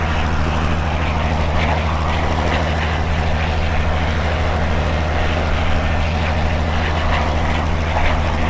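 A Spitfire Mk I propeller engine in Microsoft Flight Simulator drones steadily and loudly throughout, a constant low rumbling hum with no talk.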